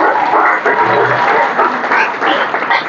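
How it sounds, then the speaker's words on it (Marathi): An audience claps loudly and continuously at a gathering honouring an athlete, a dense close burst of applause filling the whole moment without speech. "सर्वांनी एकदा जोरदार टाळ्या वाजवा"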